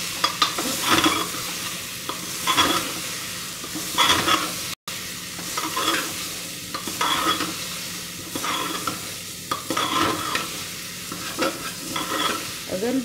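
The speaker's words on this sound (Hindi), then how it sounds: "और फिर अच्छे से इसको हम चला देते हैं।" Mixed arbi and nenua vegetables are stirred in a cooker pot, a spoon scraping in regular strokes over a soft, steady frying sizzle, with no talking.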